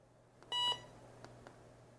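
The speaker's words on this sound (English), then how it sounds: "You guys hear the little beep" A metal treasure-hunting detector sounds a single short electronic beep at power-on, with a couple of fainter clicks after it, alone over a low steady hum.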